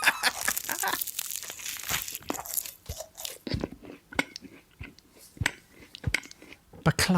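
Baklava being eaten up close, with wet chewing and sharp crunches of flaky pastry coming in irregular bursts, loud and close to the mouth, plus occasional crinkling.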